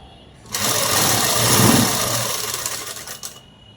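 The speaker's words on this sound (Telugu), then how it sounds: "తీసుకున్న తర్వాత ఇలా మడిచి అనేది కుట్టు అనేది వేసేసుకున్నామండి." A sewing machine stitching a folded strip of cloth: a steady, fast mechanical whirr starts suddenly, runs for about three seconds, and then stops, close and loud with no talking.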